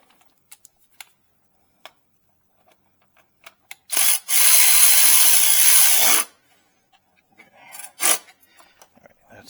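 A power screwdriver or ratchet tightens a screw on a Nissan Rogue during a tune-up, a loud buzzing whir lasting about two seconds, surrounded by scattered light clicks and taps of handling parts.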